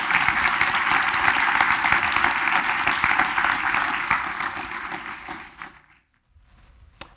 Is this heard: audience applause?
yes